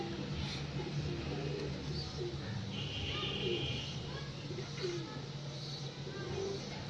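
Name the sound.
pigeons cooing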